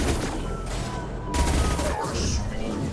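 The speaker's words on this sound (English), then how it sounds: "Firing a high impact shot." High impact gunshots in the Mass Effect video game, a dense burst of heavy firing with booming impacts and a brief gap between volleys, loud and close, with faint voices mixed in.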